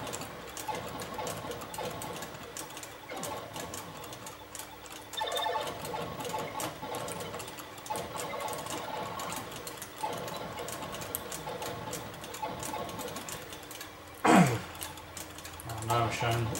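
Time Pilot arcade game sounds come from a pirate emulated board in an arcade cabinet. A continuous buzzing, whirring electronic drone runs with bleeps and blips, and a brief louder burst rises near the end, at moderate volume.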